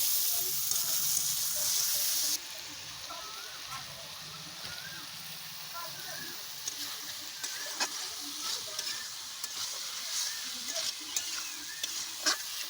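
Pointed gourd curry masala sautéed with cumin powder and a splash of water, starting with a loud hiss that drops abruptly to a softer bubbling sizzle with scattered spatula taps and scrapes.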